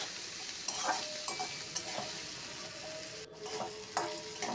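Potatoes, tomatoes and green chilies sizzle steadily in an oil-filled pan while a spatula stirs them, scraping and clacking against the metal in short periodic strokes close up, with no voices.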